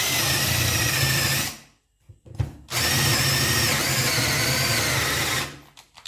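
A Parkside 12-volt cordless drill on a 4Ah battery whirs loudly and steadily up close drilling holes, stops briefly with a couple of clicks, then runs again for several seconds before winding down.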